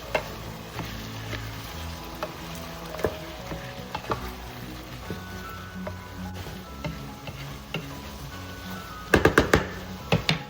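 Ground meat and potatoes sizzle and simmer in a pan for a Filipino tortang giniling, with a steady frying hiss, occasional stirring taps and clinks of a utensil near the end.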